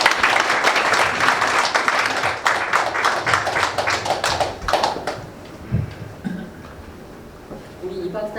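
An audience at a school opening ceremony applauds in a dense, sustained round of clapping that tapers off after about five seconds, leaving quiet room noise with faint movement.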